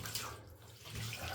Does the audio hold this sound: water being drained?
yes